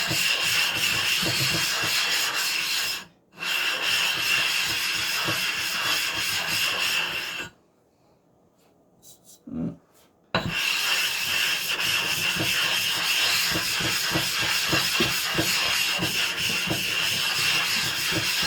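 A resin bond diamond sharpening stone being dressed produces a steady, gritty rubbing and scraping hiss in long strokes, broken by two pauses, one short and one several seconds long with faint knocks.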